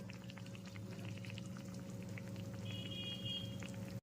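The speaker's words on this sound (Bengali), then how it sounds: "এরপর এর মধ্যে দিয়ে দিচ্ছি এক বাটি পরিমাণ গরম জল" Hot water poured into simmering potato curry in a pan, a steady dense liquid rush with bubbling throughout, close and fairly loud, with a faint steady hum underneath.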